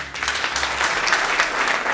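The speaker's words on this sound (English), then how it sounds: "I think we need to clap for Kenya." Dense applause from a conference audience at the ICAN 2018 aviation event as Kenya is honored as host, a brief, steady burst of many hands clapping at fairly loud volume.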